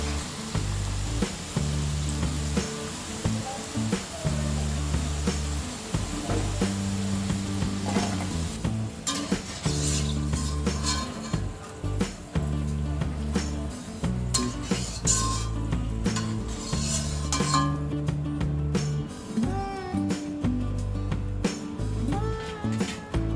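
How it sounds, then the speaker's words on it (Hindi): Golden-brown fried potatoes for aloo gobi being scooped out of a hot kadhai onto a plate, with steady oil sizzle, scraping spatula strokes and metallic clinks against the pan throughout, no voices. "हमने सारे आलू को प्लेट में निकाल लिया है।"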